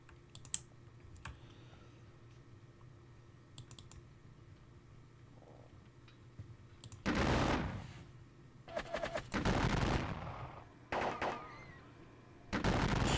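Musket volleys in a Napoleonic wargame, Salamanca battle: several loud crackling bursts of massed gunfire from about seven seconds on, after a stretch of quiet ambient hum with faint clicks, no talking.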